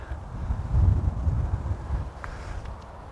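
Gusty wind buffeting a microphone on a golf course, a low rumbling roar that swells and eases over a few seconds with no voices.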